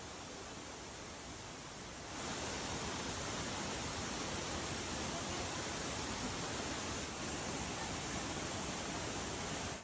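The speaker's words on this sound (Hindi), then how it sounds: "बारिश की वजह से बांध किस तरह से ओवरफ्लो हो गया है" Rainwater pours over the overflowing Taapur dam near Kota, Rajasthan, after heavy monsoon rain, a steady, dense rushing roar that jumps louder after about two seconds and then holds unbroken with no voices.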